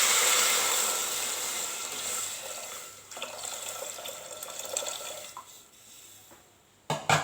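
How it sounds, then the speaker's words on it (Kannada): Water saved from boiling horse gram is poured into a pan of frying spices for a horse gram rice dish, a close, steady liquid splash that fades, then ends with a sharp knock. "ಈಗ ಹುರುಳಿಕಾಳು ಬೇಯಿಸಿದ ನೀರನ್ನು ಇದಕ್ಕೆ ಸೇರಿಸ್ಕೊಬೇಕು."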